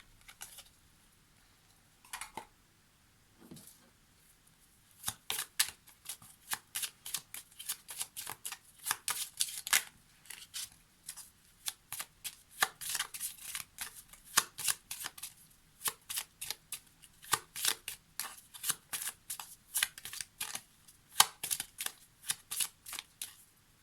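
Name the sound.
shuffling Lenormand oracle cards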